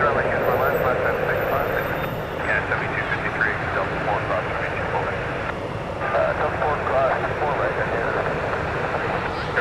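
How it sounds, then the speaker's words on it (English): Brickyard Embraer 175 airliner taxiing around a corner at Toronto Pearson, bound for Dulles: a steady, moderate jet engine hum with slight fluctuations, heard from a distance. "Coming around the corner, we got Brickyard 3637 to Dulles, Washington, Embraer"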